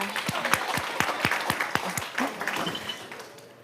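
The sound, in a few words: audience cheering and applauding at board meeting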